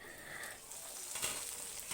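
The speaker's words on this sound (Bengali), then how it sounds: "এগুলো ভাজা হতে থাক আমি একটু ঢাকা দিয়ে দিলাম" A soft, steady sizzle of potatoes frying in a covered pan, faint and muffled, with a few light crackles.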